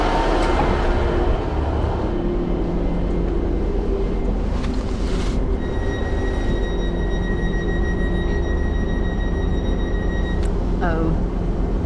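A train pulls into a station on a rainy day with a loud, steady rumble and a rush of wind noise, a sustained squeal of brakes in the middle, and a short bright tone near the end.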